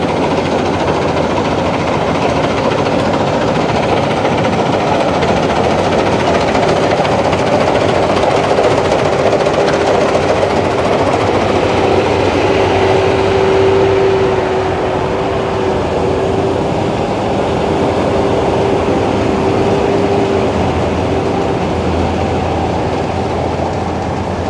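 A combine harvester works a rice field up close, its engine and threshing machinery giving a loud, steady, unbroken mechanical drone with a faint whine rising through the middle.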